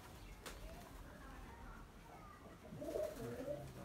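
A tumbler pigeon kept in a home loft gives a low, soft coo near the end after a stretch of faint background noise.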